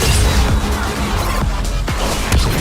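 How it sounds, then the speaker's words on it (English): Aegis cannon fire in the Nikke video game: a loud, dense crashing blast roar that fills the whole moment, with several sharp impact swoops layered over the continuous rumble. "Aegis cannon, fire!"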